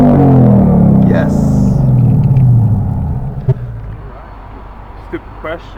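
A 2015 Ford Mustang GT with a new MBRP exhaust gives a loud, deep rumble that fades as the car moves away, leaving a quieter idle with a couple of sharp pops. Voices are heard faintly.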